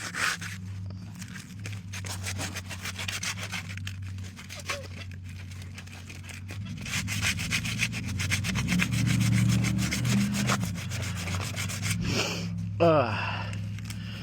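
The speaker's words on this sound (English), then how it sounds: "Looks like we are lifting some of that rust off of here." Rust being sanded off an old Chevy truck wheel outdoors: a continuous raspy rubbing and scraping runs throughout at moderate level, growing denser and louder toward the end, with outdoor background noise.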